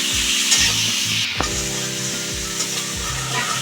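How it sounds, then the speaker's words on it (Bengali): Prawns frying with vegetables in a pan, a loud continuous sizzle close up with rhythmic scraping strokes from a spatula and one sharp knock. "এই চিংড়ি মাছটার সঙ্গে ভাজা হয়ে যাবে চিংড়ি মাছটা দিয়ে আমি ভেজে নিই"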